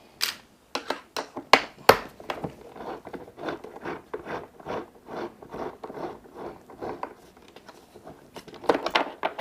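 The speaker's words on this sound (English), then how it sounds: "Just going to remove these bolts." Sharp metallic clicks and ratcheting scrapes come in uneven bursts as bolts are removed from the trunk lid of a Honda Goldwing, close up with no talking.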